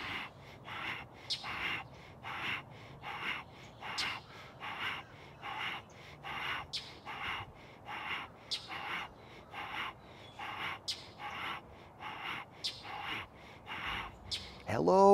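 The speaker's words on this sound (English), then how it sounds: "birdies chirping in the background" Birds chirp steadily in the background in a repeating pattern during a seated exercise session, faint and regular, with a brief louder call near the end.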